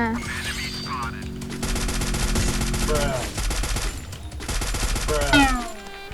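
Gunfire in the mobile shooter Garena Free Fire, with rapid automatic bursts in two long stretches and sharp single shots, loud and close, mixed with in-game effects and a player's voice.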